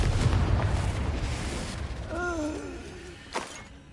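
Confringo fire-blast spell cast in Hogwarts Legacy gameplay: a loud, roaring explosive whoosh that fades over several seconds, with a brief musical or voiced tone and a late pop.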